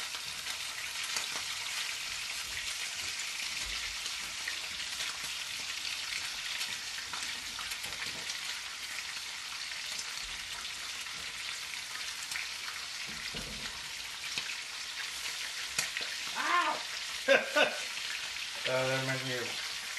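Constant crackling sizzle of bacon frying in a pan, dense and steady, with brief voice-like sounds near the end.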